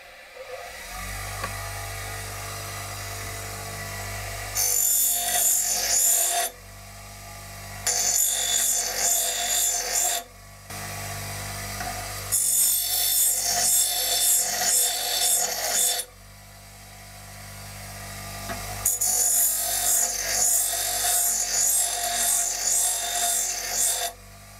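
A drill boring holes in steel square tubing for a welded storage shelf, heard as several whining, rasping bursts of cutting separated by quieter pauses with a low motor hum underneath.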